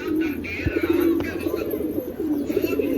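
Pigeons in a pigeon loft coo and murmur in a low, continuous soft warble, several birds close together, with faint rustling and background bustle.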